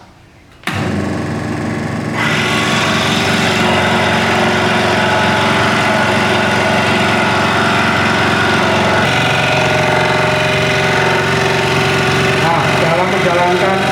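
A scroll saw is switched on for cutting wood: a sudden start into a loud, steady mechanical whir and buzz that runs on unbroken at close range, with no talking over it.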